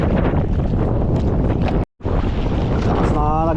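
Amihan northeast monsoon wind blowing hard at sea aboard a fishing boat, heavy rumbling gusts buffeting the microphone with a brief dropout, and a voice briefly heard near the end.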